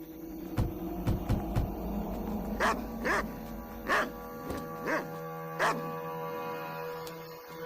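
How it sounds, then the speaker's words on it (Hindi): A dog barks in a run of sharp, evenly spaced barks over a steady hum and background noise in a dubbed South Indian film scene. "इसका खाना कोई और कुत्ता खा गया होगा, तभी इतना भौंक रहा है।"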